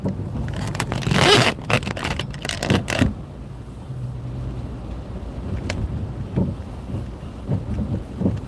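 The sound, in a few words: rain and thunder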